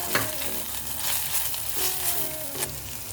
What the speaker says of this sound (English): When it gets brown, add garlic paste